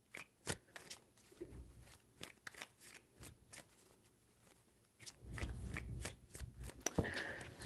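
Tarot cards are shuffled by hand in three bursts, heard as crisp riffling snaps and soft slaps close up. Quiet gaps separate the bursts, and a longer rustling shuffle comes near the end.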